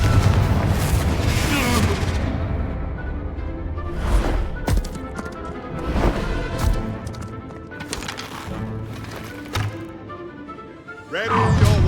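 Confringo spell explosions in Hogwarts Legacy burst as repeated booming blasts and thuds amid a busy, roaring battle, several impacts spread over a dozen seconds with a fresh surge at the end.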